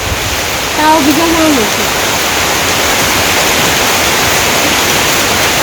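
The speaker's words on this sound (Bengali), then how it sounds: "বাবা রে বৃষ্টি নামছে ছাতিতে তো কাম হইতো না" Heavy rain pours down in a village, a steady, dense hiss that fills the whole clip at an even level, with a brief faint tonal sound near the start.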